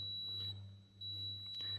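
An ERA ventilator machine alarm sounds as a steady, faint high-pitched electronic tone that holds almost unbroken, over a low mechanical hum.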